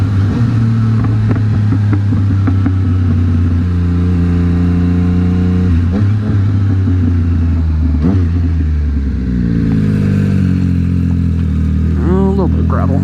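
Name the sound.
car making a U-turn on gravel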